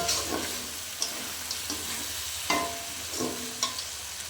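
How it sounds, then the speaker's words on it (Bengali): Pond crab curry cooks down in a pan, bubbling and sizzling steadily up close, with periodic scraping stir strokes against the pan about once a second. "এবার আমি একটু রসটাকে মেরে নেব, তারপর আমি নামিয়ে নেব"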